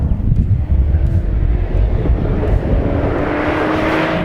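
A Cadillac CT4-V Blackwing sport sedan, driven hard, gives a loud continuous roar of engine and road noise that rises in pitch toward the end, with wind rushing past.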